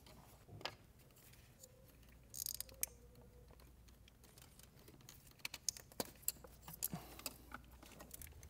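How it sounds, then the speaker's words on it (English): Plastic clicks and small mechanical snaps of an oxygen sensor connector being unplugged on a BMW N20 engine, quiet and close, a few sharp ticks scattered over faint workshop hum. "We're gonna disconnect the oxygen sensor."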